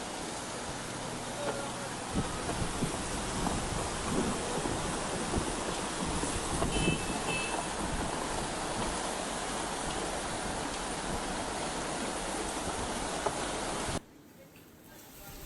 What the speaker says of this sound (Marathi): बारामतीत सध्या जोरदार पावसासह वेगवान वारं वाहत आहे